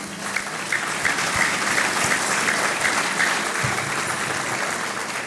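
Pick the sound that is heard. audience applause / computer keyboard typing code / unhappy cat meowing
audience applause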